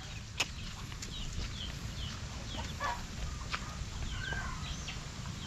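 Rhode Island hens and other chickens cluck and squawk on a farm, scattered calls rising over a steady low background hum, with no talking.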